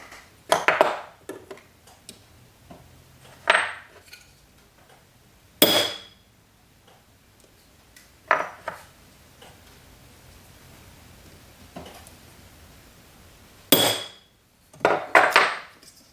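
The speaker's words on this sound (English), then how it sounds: "we're just hammer those guys in there" Scattered sharp metallic taps of hammering metal jewelry pieces for a garnet cuff bracelet, single and in short bursts, separated by long quiet pauses in a still room.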